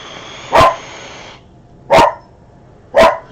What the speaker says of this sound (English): What are you looking at and who are you barking at?